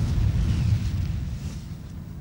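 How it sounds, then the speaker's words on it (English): Artillery fires in a France versus Mamluks battle video game, a deep rolling boom with low rumbling that slowly fades, heard at a moderate distance. "You can see my artillery still firing strong in my rear."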